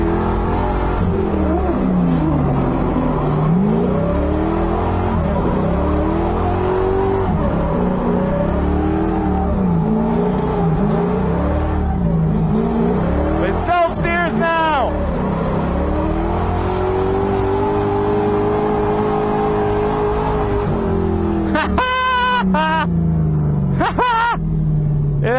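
An LS-swapped Mazda Miata on a fast test run, a loud continuous engine drone rising and falling through gear changes and revs, recorded inside the car, with brief tire squeals or chirps partway through.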